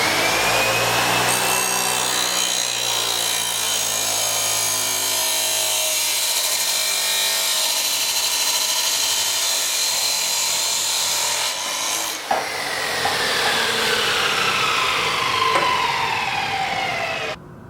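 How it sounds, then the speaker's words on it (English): A power saw bites through steel stock cut to length, giving a loud, continuous grinding whine that runs for about seventeen seconds with a brief dip partway through. No voices. "We'll place the material in the chalk, start the switch, get it up to speed, and then begin cutting."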